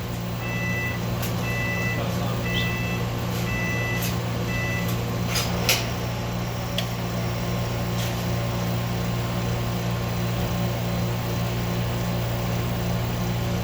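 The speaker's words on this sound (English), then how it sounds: "you hear that beeping sound? But that means I got some muffins cooking" An oven timer beeps in repeated pairs of short tones as muffins finish baking in a shop kitchen, heard over a steady low hum with a few clicks and clatters; the beeping stops partway through.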